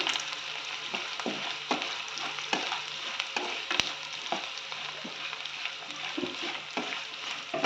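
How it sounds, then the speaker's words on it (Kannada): Roasted gram (hurikadale) frying with garlic in oil for poha chivda, a steady close sizzle with soft stirring scrapes and occasional light clicks throughout, no talking. "ಚೆನ್ನಾಗಿ ಫ್ರೈ ಮಾಡ್ಕೋಬೇಕು"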